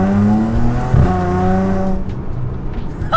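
Audi S4 fitted with a loud valved exhaust, revving hard with deep rasping tone and crackling downshift pops, heard from inside the car with a window cracked; the engine note swells, then drops away in the last second.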